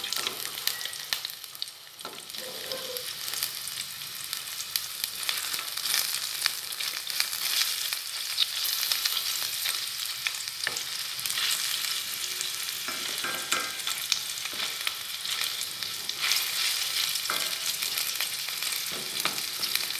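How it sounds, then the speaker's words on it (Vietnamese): Minced pork stir-frying in hot oil with shallots, a steady loud sizzle and crackle with occasional stirring scrapes, continuous and close with no talking. "cho hành củ vô em phi em phi thơm rồi em đổ thịt băm vô em xào"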